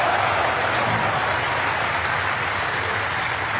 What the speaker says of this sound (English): this crowd is certainly getting excited